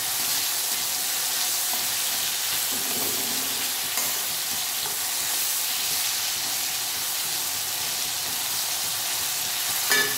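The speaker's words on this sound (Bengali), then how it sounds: "ভালো করে নাড়িয়ে নেব।" Tomatoes frying and being stirred in a pan on a gas stove, a steady broadband sizzle and hiss that carries on close and fairly loud throughout, with a faint scrape near the end.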